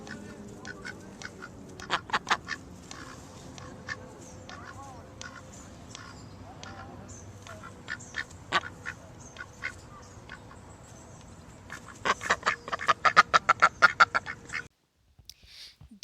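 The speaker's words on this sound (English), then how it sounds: "Next we have beautiful white ducks and they make quack quack" White ducks quacking in a run of short, repeated calls that grow denser and louder near the end, with a faint voice in the background.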